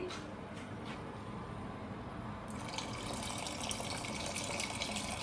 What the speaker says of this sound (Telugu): ఇందులోకి కొంచెం వాటర్ కలుపుకొని వేసుకోవాలి.